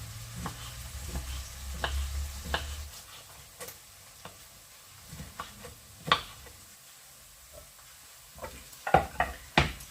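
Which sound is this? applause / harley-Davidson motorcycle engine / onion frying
onion frying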